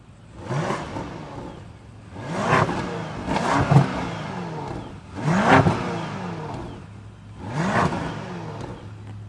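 A 2026 BMW X6 V8 roars through quad exhaust outlets in a series of five sharp revs, each rising and falling in quick bursts with short pauses between, loud and close with no talking.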